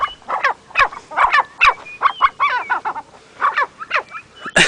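Birds at a trekking camp near Island Peak in Nepal give loud, repeated honking and cackling calls in close, irregular bursts, with short pauses between.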